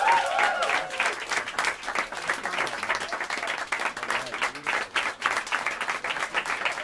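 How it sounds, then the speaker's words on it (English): A club crowd at Smalls Jazz Club in New York gives a live jazz band a round of applause, steady and fairly close clapping throughout with a brief voice near the start. "How about another round of applause for this great band?"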